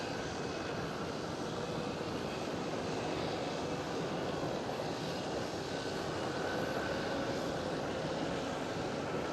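British Airways airliner taxiing at Schiphol Amsterdam Airport, heard from the panoramic terrace as a steady, moderately distant jet engine rumble and whine that holds constant throughout, with no talking.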